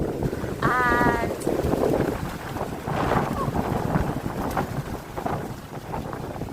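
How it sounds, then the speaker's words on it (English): Strong hurricane wind in Jamaica, a loud, steady roar and microphone buffeting that swells and eases over several seconds, with a brief high whistle near the start. "I must say the wind is very strong, very heavy, and even the sound of the wind is very loud, very powerful."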